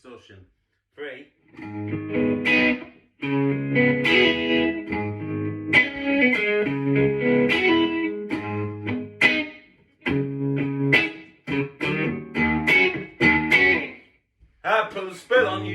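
Electric guitar played through an MXR Distortion 3 pedal, sounding a series of gritty distorted chords and notes in short phrases separated by brief pauses, close and clear.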